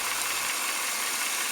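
A 2001 Ford E250 van engine idles with one ignition coil disconnected, giving a steady, continuous hum with a broad hiss on top, even and close, with no voices.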